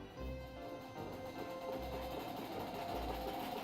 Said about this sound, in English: when I do that, you'll hear the motor start to run.